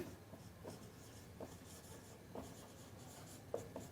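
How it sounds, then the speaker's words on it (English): A teacher writes an answer on a board in a Class VII English lesson, giving faint, intermittent scratchy strokes spaced a second or so apart, with no talking. "so first answer I am going to write, so write it down children"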